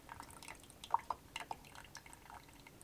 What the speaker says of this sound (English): Drip, drip, drip, drip.